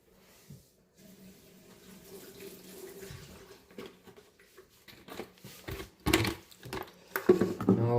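Water pours from a bucket of gold-prospecting material from a large river, a soft trickle building into heavier gushing splashes toward the end, close and without talk.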